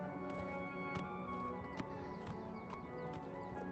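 Horse hooves clip-clop steadily at a walking pace in the Oblivion Remastered VR game, a close, even rhythm of regular hoof strikes over constant background game ambience, with no talk.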